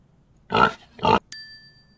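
A pig gives two short, nasal oinks in quick succession, close and clear, followed at once by a bright ringing chime that slowly fades.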